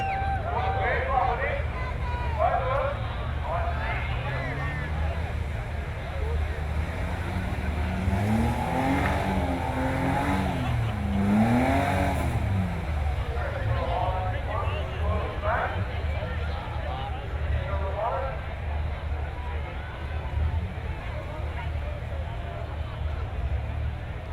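An off-road rock buggy's engine revs and surges as it climbs up and over rocks at a competition, with a continuous loud roar rising in pitch mid-way, under constant commentary and crowd noise.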